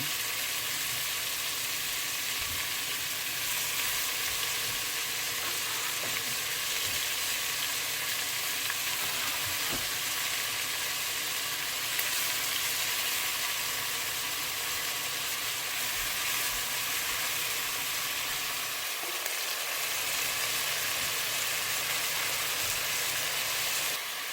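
Jumbo shrimp frying in a pan, flipped as they turn pink, for a Jamaican-style shrimp and rice dish: a dense, steady sizzle and hiss runs close and loud throughout, with occasional faint scrapes and no talking.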